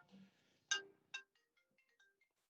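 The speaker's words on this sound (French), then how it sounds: "c'est mon téléphone" A mobile phone rings during a live video conference, giving a faint melodic ringtone of a few short bright tones that fade quickly, with no talk over it.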